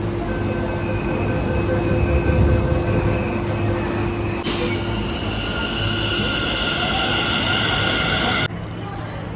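A metro train near the Taiwan embassy rolls past loudly, its wheels squealing in long sustained whines over a constant rumbling roar.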